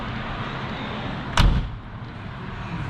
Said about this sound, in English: What a solid sound on that door.